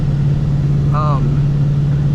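A Whipple-supercharged Ford Mustang GT hums with a steady, low, constant drone heard from inside the car while driving, with a brief higher tonal chirp partway through.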